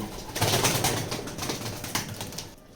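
Pigeons coo steadily, close and fairly loud across the whole stretch, with a soft flutter of wings and no voices, from a loft of young pedigree racing pigeons.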